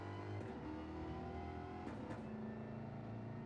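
A GT4 race car in a sim racing game at Fuji, Japan, holds a steady engine drone that drops in pitch at a quick double upshift partway through. Quiet, without voices.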